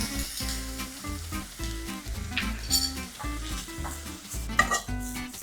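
Mushrooms seasoned with salt and mixed herbs sizzle steadily in a hot pan, with repeated scraping stirs and tosses and light metal clinks, close and continuous, no talking.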